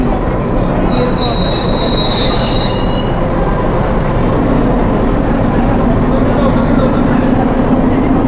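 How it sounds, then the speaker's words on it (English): A short Nilgiri Mountain Railway toy train runs between Ooty and Coonoor with loud, steady rolling noise close by and high wheel squeals early on. "This is a short toy train."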